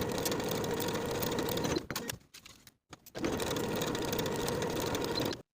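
A sewing machine stitching a wool jacket sleeve seam runs in a fast, close mechanical chatter, stopping briefly near the middle for a few light clicks, then resuming steadily before cutting off.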